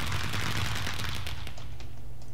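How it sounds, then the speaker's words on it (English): Fireworks spamming from a redstone launcher in Minecraft, a dense rapid volley of crackling pops and bangs that is loud and continuous before thinning into scattered bursts. "which actually spams a lot of fireworks"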